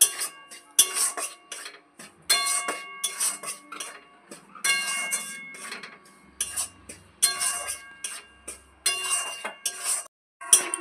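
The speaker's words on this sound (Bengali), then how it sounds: "আটাটা হালকা করে গরম করে নিচ্ছি।" Wheat flour is dry-roasted in a pan in a home kitchen while a metal spoon stirs it, producing bursts of sharp clinks and scrapes against the pan with short silent gaps between them.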